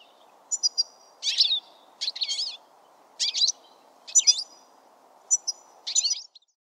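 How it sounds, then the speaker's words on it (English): A goldfinch sings bright, twittering high chirps in short bursts spaced about a second apart, close and clear over a faint low hum. "Goldfinch."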